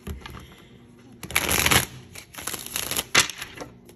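Tarot cards being shuffled in quick riffling bursts, crisp and close, with short pauses between shuffles and no talking.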